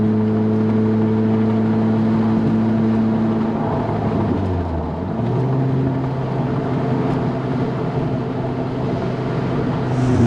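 A supercharged Lotus sports car revs through a tunnel, a loud sustained engine drone with supercharger whine, the pitch dipping briefly midway and climbing back as it pulls hard, echoing continuously throughout.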